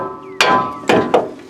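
A few sharp metallic hammer taps releasing a control arm bolt on a Nissan Titan, three quick close strikes with ringing decay.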